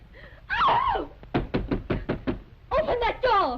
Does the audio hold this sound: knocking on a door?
yes